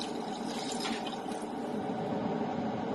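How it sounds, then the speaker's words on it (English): A steady stream of water pours into a cooking pot holding bay leaves while dinuguan is being made, a continuous splashing rush lasting a few seconds at moderate volume, with no voices. "You get 1 pour of water."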